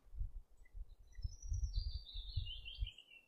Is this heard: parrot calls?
yes